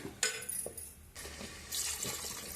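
Water splashes in short, quiet bursts into a pot of ragi being cooked in a kitchen, with brief pauses between the pours.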